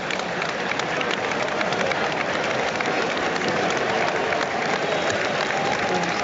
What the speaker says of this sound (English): Connor Roberts gets warm applause